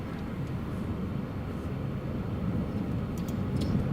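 A KLM airliner taxiing at Newcastle Airport during a storm, a steady broadband engine roar mixed with wind, distant and continuous, slowly growing a little louder over four seconds, with no voices.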